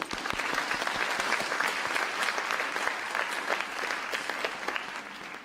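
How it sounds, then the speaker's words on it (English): An audience at a Bharatanatyam arangetram dance debut breaks into sustained applause, steady overlapping claps from a moderately sized hall that hold at an even level before tapering slightly. "Special round of applause to her."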